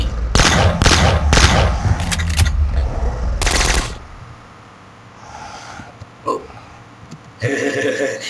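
Rapid gunfire from the video game Box Head sounds in loud clustered bursts at the start, then fades to quieter game noise with a few sharp pops, while players talk over it.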